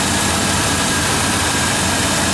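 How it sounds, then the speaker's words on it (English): Chevy 4.3 engine running just after being reinstalled, a loud, continuous, close-up rumble that holds steady throughout without anyone talking. "So I got the engine back in this thing. It runs like a top."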